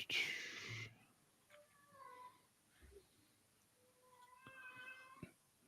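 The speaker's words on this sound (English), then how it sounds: "There's the cat." A cat meows several times in thin, rising calls, with a loud burst of noise at the start and faint background sound between, the meows moderately close and not overlapped by talk.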